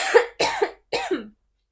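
A person coughs three times in close succession, each burst loud and near, with short pauses between and no talking.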